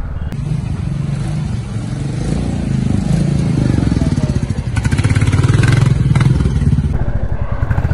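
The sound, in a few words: motorcycle engine running, Royal Enfield Classic 350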